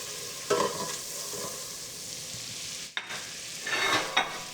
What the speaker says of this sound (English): The first thing we're going to do, we're going to start with melting our butter.